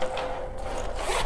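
Zipper on a Maxpedition Ziphook organizer compartment being pulled, a close, continuous raspy zip lasting about a second with a brighter scrape toward the end.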